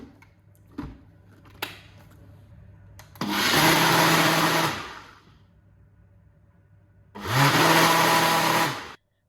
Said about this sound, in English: By using my Ninja blender, it is beautifully smooth.